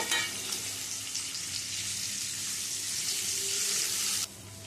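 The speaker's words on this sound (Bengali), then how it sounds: "আলুটা দিয়ে দিচ্ছি আলুটা দিয়ে আলুটা ভেজে নেব" Cut potatoes sizzling as they fry in hot oil for a spiny gourd curry, a loud continuous hiss close up that drops off sharply near the end, no voices.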